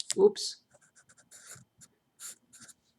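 A math problem on polynomial division being written out: sparse, soft scratchy pen strokes in short bursts, with a brief breathy sound at the start and quiet gaps between marks.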